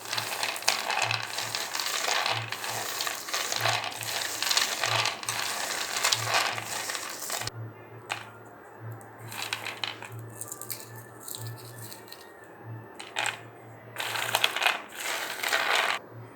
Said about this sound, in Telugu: మనం వీటిని ఇలా క్రష్ చేస్తే ఎమ్మటే వచ్చేస్తుంది అనమాట పీల్ అది